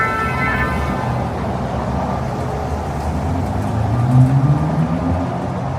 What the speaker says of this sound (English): Just love traffic noises, huh?